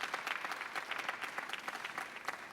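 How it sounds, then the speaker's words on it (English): A conference audience at a business congress panel claps in a dense, even burst of applause, moderately distant and fairly quiet, with no voices. "An applause to José Ignacio."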